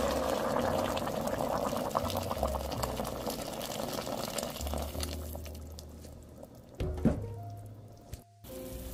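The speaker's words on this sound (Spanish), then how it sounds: "le vamos a agregar agua hirviendo y vamos a dejar que el pollo se cocine" Boiling water is poured into chicken stew (cazuela de pollo), a steady close splashing and bubbling wash that thins out and quiets toward the end.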